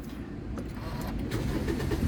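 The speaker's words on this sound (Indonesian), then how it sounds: "Nah, sekarang kita coba nyalakan mobil ya." A 2010 Toyota Vios 1.5 G automatic with about 166,000 km starts up, giving a short, steady low rumble that builds slightly as the engine catches, heard close and without talk.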